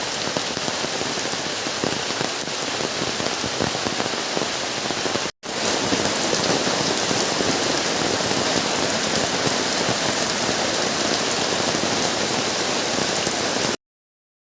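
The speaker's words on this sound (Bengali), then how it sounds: "আমাদের পুকুরে বৃষ্টি পড়তেছে" Heavy rain pouring onto a village pond, a dense, loud, unbroken hiss of countless drops that cuts out briefly once and then resumes just as strongly until it stops abruptly.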